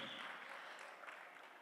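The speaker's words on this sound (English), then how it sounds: "I would request each one of you to give them a huge round of applause once again" Audience applause at a live corporate event in Bangalore: a steady dense wash of clapping throughout, faint and distant, with no voices standing out.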